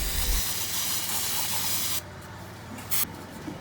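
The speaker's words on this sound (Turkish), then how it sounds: "Kapağın içini bir balata spreyi kullanarak temizliyorum." A steady aerosol spray of brake cleaner hisses close up for about two seconds while cleaning the inside of a cover on a Fiat Doblo, stops, then gives one short extra burst.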